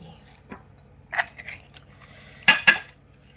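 Plates and dishes clinking and clattering in a series of short, close knocks and chinks while som tam, Thai papaya salad, is being served, with quiet pauses between the sounds.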